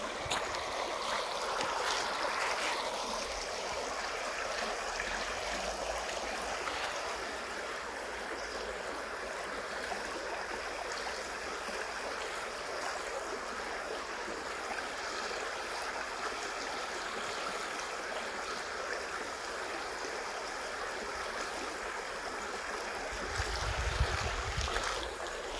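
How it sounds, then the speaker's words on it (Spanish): Flowing water rushes steadily and evenly in the distance, mixed with faint wind and a brief low rumble near the end, with no voices. "vemos allá como viene el río."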